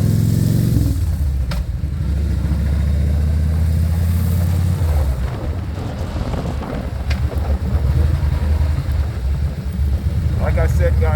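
Loud, close rumble of a Kawasaki Vulcan VN 2000 motorcycle riding down the road, the deep engine drone smothered in heavy wind buffeting against the microphone throughout.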